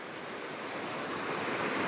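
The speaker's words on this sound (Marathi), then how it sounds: "पावसानं के जोरदार आबाळ केले शेतकऱ्यांची बेसा पाणी वाढलंय" Floodwater rushing after heavy rain near farm fields, a steady broad roaring wash that fills the background evenly and grows slightly louder, with no voices over it.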